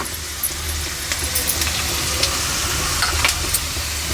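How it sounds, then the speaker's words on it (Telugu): Goat tripe curry with turmeric frying in a pan gives a loud, continuous sizzle, broken by scattered clicks of a spoon stirring. No one speaks over it. "ఇంకా కొంచెం వేగాల కొంచెం పసుపు వేసుకుందామండి"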